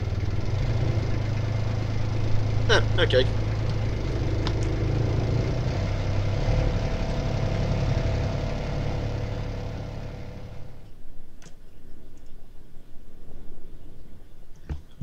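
A boat engine rumbles steadily in a swamp scene of a video game, a continuous low mechanical drone with a few clicks, fading out near the end; one brief spoken word.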